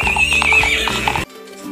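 A zebra neighs in a video game, a loud whinnying call with clip-clop-like hoof sounds that cuts off abruptly, leaving a quieter tail.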